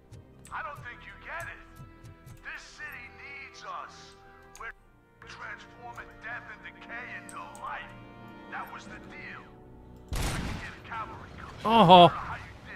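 Gunfire from the video game RoboCop: Rogue City, a sharp loud burst near the end that stands out over music and game sounds, with someone talking throughout.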